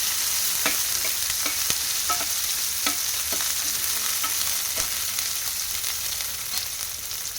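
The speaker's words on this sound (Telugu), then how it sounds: "ఆనియన్ ముక్కల్ని ఫ్రై చేసుకోవాలి" Onion pieces frying in a pan give a dense, steady sizzle, broken by frequent sharp clicks and pops from spatter and stirring, close by and with no voices.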